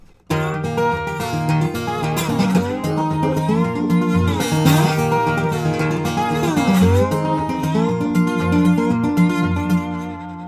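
Steady guitar picking through the slide section of a song, played from the lesson as a continuous flowing pattern with sliding pitch movement, dense and fairly loud for about ten seconds with no voices.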